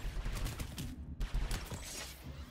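Artemis full auto scout rifle firing in PlanetSide 2, a rapid burst of shots with a short pause in the middle, close and fairly loud over game background noise.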